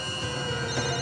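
A phone rings for a call from a private number, a steady electronic ringtone heard close and alone for about a second.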